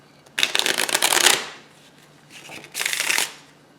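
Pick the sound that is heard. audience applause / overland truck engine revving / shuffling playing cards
shuffling playing cards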